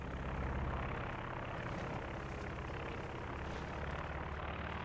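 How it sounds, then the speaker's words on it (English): Recon plane in the Company of Heroes 2 strategy game droning overhead, a steady propeller-engine hum holding at an even level throughout with no voices. "Got the recon plane up from NiteNite."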